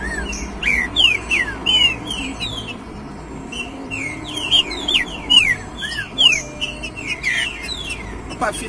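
A green-winged saltator (trinca-ferro) sings at a songbird tournament, close and loud. It repeats quick whistled phrases in bursts over a low background rumble.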